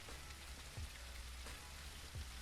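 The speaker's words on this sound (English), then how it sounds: "I swear this game, it rains like every day." Steady rain in the survival game Surroundead, a constant hiss of drops pattering on surfaces, with faint soft thumps now and then and no talk.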